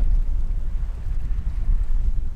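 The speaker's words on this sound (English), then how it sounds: "we'll carry on sailing a bit further and see what the wind's doing" A sailboat under way in a brisk wind on British waters, with steady low rumbling wind buffeting and water rush running continuously, fairly loud and close, with no talking.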